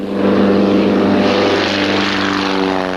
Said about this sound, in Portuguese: Quando o K-51 decola, dá para entender a expressão de felicidade de Otávio.